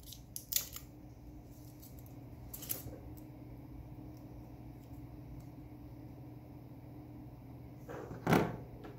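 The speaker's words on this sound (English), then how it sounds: "Start by cutting off the excess foil." Scissors snip through excess foil shielding on a Fieldbus instrument cable in a quiet room, three short, sharp cuts spaced apart, the last one louder, with no one talking.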